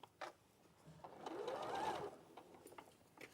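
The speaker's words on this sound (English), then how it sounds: "So I'm going to carry on sewing." A sewing machine stitches through fabric with a steady mechanical whir that swells in the middle of the run, alone and fairly quiet, with a few faint clicks before and after.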